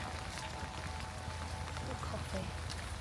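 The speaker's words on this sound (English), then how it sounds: "Very rainy New Year's Day walk." Rain falls during a wet New Year's Day walk at a park run, a dense steady hiss and patter all around, with muffled movement and a low rumble mixed in.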